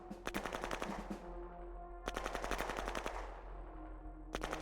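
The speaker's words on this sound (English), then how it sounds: "A lot of shooting." Bursts of rapid automatic gunfire in the video game Shadow Empire, dense rattling volleys that stop and restart in three waves, moderately loud with no talking.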